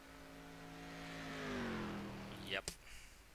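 A race car engine in the iRacing video game accelerates, its pitch rising as it passes at a distance from the trackside camera, then a sharp burst and fading rumble.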